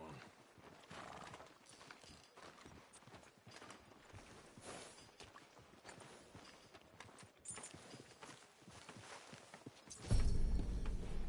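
Horse hooves clip-clop in a steady walking rhythm on a town street in a western video game, with a brief whinny. The sound grows louder and closer near the end, and there is some talk.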